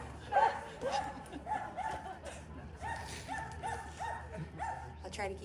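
Several dogs barking, yipping and whimpering in short repeated bursts at a memorial gathering, fairly close, with a person speaking underneath.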